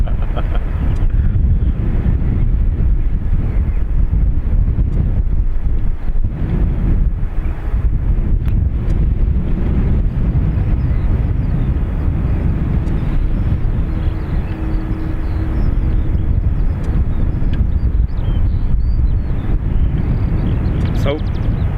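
Dash 8 turboprop taking off from runway 28 right at Dublin Airport in gusty wind, a steady low engine roar buried under heavy wind buffeting on the microphone, with talk over it.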